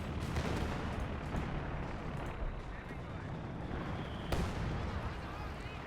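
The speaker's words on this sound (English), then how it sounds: "Oh my God, the amount of artillery." An artillery barrage in the video game Company of Heroes 2 thunders as dense, continuous rumbling blasts with a louder impact near the end, while a voice talks over the bombardment.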